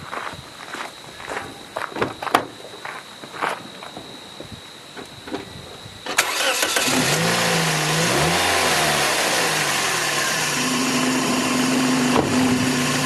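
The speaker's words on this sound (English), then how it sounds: "let's go ahead and just do a startup on this and see how that mini boost pack working all alone works to start this car" A car engine cranks and starts using only a small 12V capacitor boost pack, footsteps and handling noises first, then a steady running engine hum that settles at idle with some revving.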